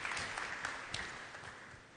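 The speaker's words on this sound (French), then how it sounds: "Je vous demande d'applaudir donc ceux qui montent sur scène, Alexandre Bonhomme et Fabien Thierry." Audience at a conference on artificial intelligence applauds as two speakers walk on stage, a dense, steady wash of clapping heard from within the hall for two seconds.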